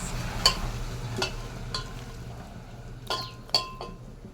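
Raw chicken leg pieces being worked by hand and stirred in oil, producing a few sharp clinks of utensil against the pan amid faint sizzling and soft wet squelching, with no voices.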